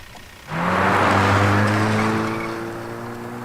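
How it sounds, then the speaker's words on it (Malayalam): A car roars in suddenly and skids, its tyres letting out a loud, sustained squeal over the engine noise. The sound peaks early, then slowly fades while still ringing out, with no voices present. "വണ്ടിയടാ."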